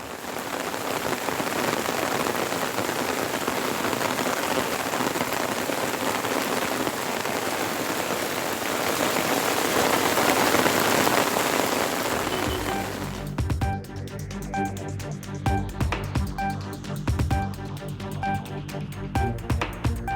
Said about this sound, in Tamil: சென்னையில் சூறைக்காற்றுடன் பெய்த பலத்த மழையால்